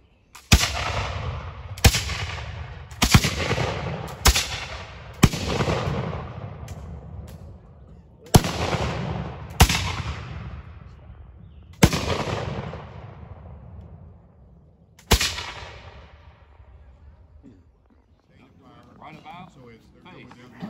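Reenactor militia fire a musket volley at a living history weekend at the Musgrove Mill battlefield, a ragged string of loud, sharp reports in quick succession, each trailing a long rolling echo, the shots thinning out before a quieter tail.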